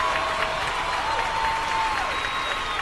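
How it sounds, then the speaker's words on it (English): Podcast studio audience applauding and cheering for someone named Juancho at a birthday moment, a steady dense wash of clapping and whoops sustained throughout at even loudness. "Thank you so much for giving Juancho the biggest cheer"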